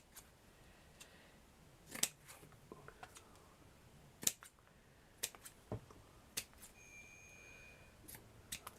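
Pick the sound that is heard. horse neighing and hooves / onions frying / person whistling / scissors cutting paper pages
scissors cutting paper pages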